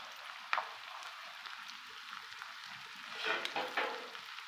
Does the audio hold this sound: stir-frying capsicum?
yes